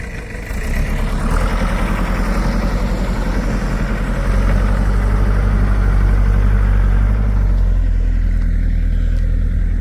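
A tractor's diesel engine idles steadily with a deep, rumbling chug, loud and close, rising slightly in intensity partway through.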